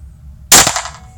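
A single sharp Glock pistol shot rings out on a shooting range, one loud close crack with a short decaying tail, followed by a faint small click.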